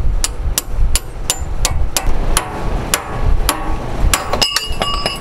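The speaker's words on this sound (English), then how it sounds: "You just put the fork in between here and start hammering like mad." Rapid, loud metallic hammer blows on a fork-style tie rod separator wedged into a car's steering joint strike over and over in an irregular rhythm, each a sharp ringing clank, close up with no talking.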